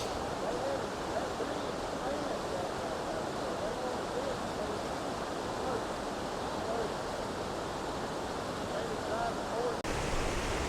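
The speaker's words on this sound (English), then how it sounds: "So this here is Roaring Creek, and as you can see today, it's flowing pretty good" Roaring Creek along the Cumberland Trail rushing strongly, a steady broadband roar of fast-flowing water, close and constant throughout with no clear breaks.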